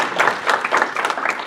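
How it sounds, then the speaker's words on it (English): A room full of audience members claps for a panel of speakers at a northern Michigan economic forecast event, brisk dense applause rising and falling in waves through the short burst. "How about a big round of applause?"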